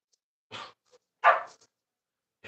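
Dogs bark in the background during a holiday gun-cleaning session, two short, muffled barks somewhat distant, with quiet gaps between.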